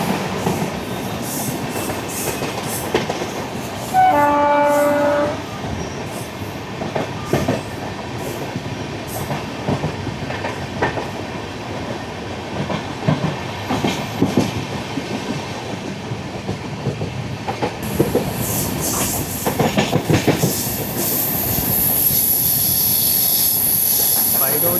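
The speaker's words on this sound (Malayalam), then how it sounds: "Mangaluru central Lokmanya Tilak terminus മത്സ്യഗന്ധ express ആണത്." The Mangaluru–Lokmanya Tilak Matsyagandha Express rumbles past nearby with rolling wheel clatter, while a short horn blast sounds early and the train noise stays loud throughout.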